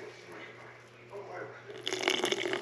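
Liquid Death sparkling water is poured into a container, starting as quiet background noise and then turning into a fizzy, splashing pour toward the end, with faint talk underneath.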